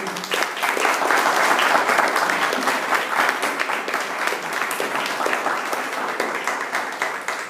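Congregation in a church service applauding Jesus Christ, a sustained burst of many hands clapping, loud at first and easing slightly toward the end.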